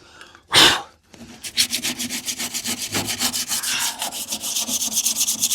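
Hand sanding on the bodywork of a Mk3 Ford Zephyr hot rod project, a close rhythmic rasping of rapid back-and-forth strokes after one sharp initial swipe, steady and alone with no talk.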